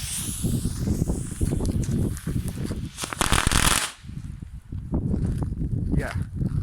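Fireworks from an assortment are set off outdoors in the rain, giving loud, rapid crackling pops and bursts that build to a dense crackle before tapering into scattered sputters, close by.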